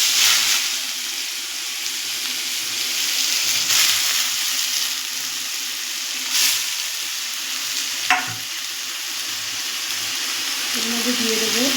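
Grated ash gourd going into hot oil with fried mustard seeds for a Bengali ghonto, a steady loud sizzle with spoon stirring and scraping throughout, a few sharper clatters, and faint water or tap sounds near the end.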